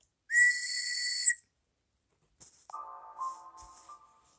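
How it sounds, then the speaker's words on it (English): A train whistle sounds one loud, steady, high-pitched blast lasting about a second, followed after a pause by a fainter, shorter tonal sound with some hiss. "is really just a whistle. Train whistle."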